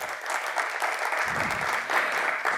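Audience applause for the artists at the close of a Carnatic vocal concert in Delhi, a steady dense patter of clapping from a hall crowd with no speech over it.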